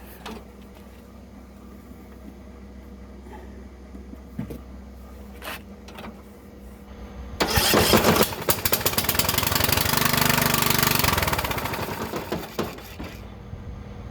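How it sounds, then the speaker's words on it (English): A small Briggs & Stratton gasoline engine with no exhaust pipe attached and a loose mount sputters, then roars loud and raw midway, running rough and unmuffled for several seconds before dropping back. "The pipe wasn't hooked up and the motor's loose, but it runs."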